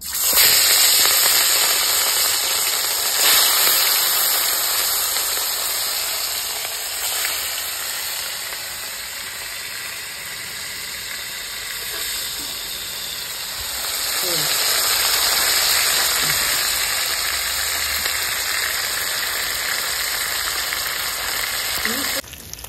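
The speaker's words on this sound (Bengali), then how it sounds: "তেলটা গরম হয়ে গেছে, এবার মাছটা দিয়ে দেবো।" Rohu fish frying in hot mustard oil in a village kitchen, a loud, steady sizzle and crackle that runs without a break, with a voice talking over it at times.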